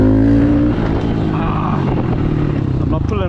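A Honda CRF110 dirt bike engine revs loud and close in first gear while the rider holds a wheelie, the steady buzzing drone shifting pitch as the throttle changes, with a voice talking over it.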